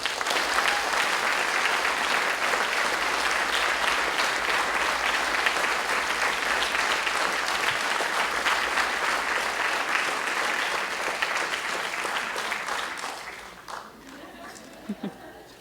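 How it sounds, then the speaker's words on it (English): An audience at a Rockland C.A.R.E.S. candlelight vigil breaks into sustained loud applause with dense overlapping claps that fade after about thirteen seconds, leaving a few scattered claps and some murmuring. "So please join me in applauding and thanking Mary for all of her hard work."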